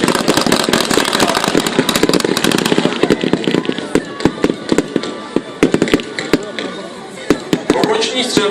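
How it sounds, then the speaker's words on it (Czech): Rapid bursts of rifle and small-arms gunfire from soldiers in a military assault demonstration at an outdoor NATO Days show in Ostrava, crackling in irregular volleys over a steady background roar. "střílejí po nepříteli"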